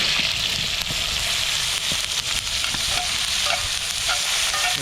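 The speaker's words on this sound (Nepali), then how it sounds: "अलि चलाएर अलिकति रोस्ट पनि भइसकेको छ" Food stirred and roasting in a cast-iron pan over an outdoor bonfire makes a loud, continuous sizzle with scraping stir strokes and crackle close by.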